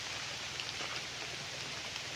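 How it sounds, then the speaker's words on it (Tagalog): Heavy rain falling outdoors beside a roadside farm lot in Liliw, Laguna, a dense, steady wash of hiss with no voices. "Naulan lang po tayo ngayon mga kapraps kaya ayan o, lakas ng ulan."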